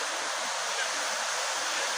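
Incoming tide washing steadily at an estuary mouth on a beach, a broad continuous rush of water and surf that stays even and fairly close throughout, with no distinct breaks.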